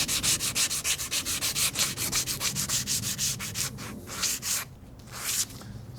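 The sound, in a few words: sanding a vise with sandpaper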